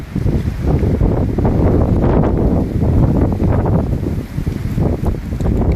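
Strong storm wind buffeting the microphone in gusty, roaring waves, a loud continuous rush with no clear voices.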